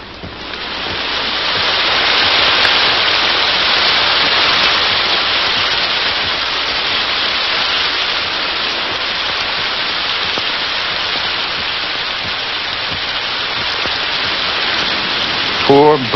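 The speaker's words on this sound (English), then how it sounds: "But over the sound of the rain, he seems to hear the breakers from beyond the dune." Heavy rain during a storm, with surf breaking beyond a dune, forms a loud, continuous wash of noise that holds steady throughout with no distinct individual drops.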